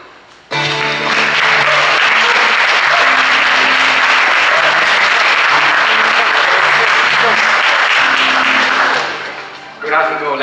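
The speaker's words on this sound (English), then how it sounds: "Please welcome with a warm applause," Warm audience applause at a stage product launch by TP-Link Neffos at IFA 2016, dense steady clapping filling the hall for about eight seconds over a low musical drone, then fading out.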